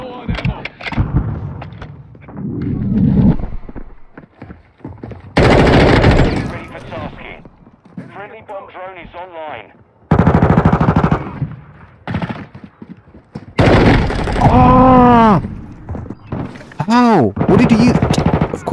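Automatic gunfire from Modern Warfare 2 bursts out loudly in several rapid, rattling volleys, with someone talking between and over the shots.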